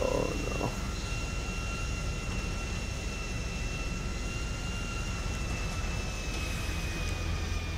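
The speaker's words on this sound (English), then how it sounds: "I landed the plane at the other end of the runway." An airplane rolls down a runway in the GTA V video game, with a steady, loud jet engine roar and rumble that holds unchanged throughout, with no voices.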